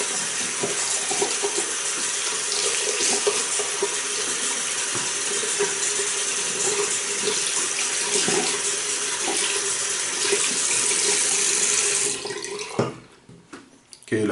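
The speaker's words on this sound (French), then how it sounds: "OK, la brosse est rincée." A shaving brush is rinsed under a running tap during a traditional wet shave, a steady close splashing rush of water that runs for about twelve seconds before cutting off, leaving a few faint clicks.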